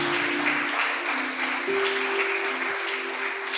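A church congregation breaks into steady, close applause, a continuous wash of clapping over a held musical tone underneath.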